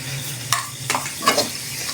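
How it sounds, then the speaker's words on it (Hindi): White cumin seeds, a spoonful, sizzling in hot oil with whole spices, a short close crackling hiss with a few sharp spoon-stirring scrapes, no talk. "अब इसमें जा रहे हैं 1 चम्मच सफ़ेद ज़ीरा।"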